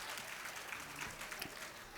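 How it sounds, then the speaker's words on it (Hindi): An audience at a children's annual day event claps for the kids' performances, giving a short, faint and distant patter of applause with voices mixed in. "एक बार जोरदार तालियां हमारे सभी परफॉर्मेंस के लिए।"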